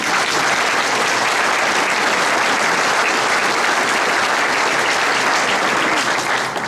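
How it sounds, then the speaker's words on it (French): Sustained, dense applause from an audience at a New Year's greetings ceremony in a French town hall setting, steady and loud throughout with no break or speech. "je crois qu'on peut l'applaudir également"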